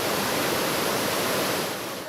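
A Carpathian mountain river rushes steadily, a dense, close, loud broadband roar of flowing water that holds constant and eases slightly at the end.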